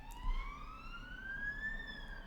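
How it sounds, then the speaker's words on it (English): A siren sound effect sounds once as a single wailing tone that climbs steadily in pitch, then dips slightly near the end, moderately loud over a faint background. "DiploStrats siren"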